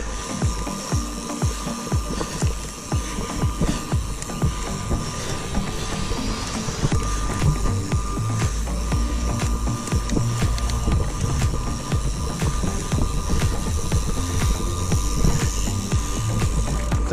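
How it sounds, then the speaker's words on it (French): A mountain bike's cassette freewheel buzzes in a fast, steady ratcheting clatter as the wheel coasts on a trail ride, continuous and fairly close, with no voices. "c'est le bruit de cassette là"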